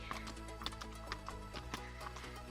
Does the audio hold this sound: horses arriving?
yes